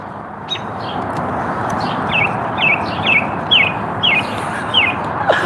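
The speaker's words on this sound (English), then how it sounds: "who is enjoying these sounds of the birds?" Birds chirp outdoors in a repeated series of bright, evenly spaced tweets over a soft background hiss, fairly loud and near, with no talking.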